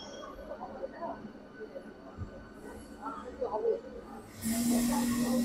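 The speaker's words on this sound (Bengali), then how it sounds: "ট্রেন এখন ছাড়লো।" A local train pulls out of Howrah station, with a steady rumble and hiss of the moving carriages and crowd noise all around. The sound swells into a louder, continuous roar near the end.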